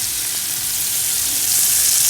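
Onions and peppers sautéing in olive oil in a stew pot, a loud, continuous close-up sizzle with a steady bright hiss and a faint stirring rustle, no talk.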